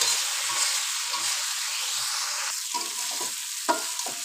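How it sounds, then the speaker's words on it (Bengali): Fried potatoes being stirred with masala in a pan for a koi fish curry, a steady close sizzle with scraping spatula strokes growing more distinct toward the end, no voices. "আলু ভালোভাবে কষিয়ে নিলাম"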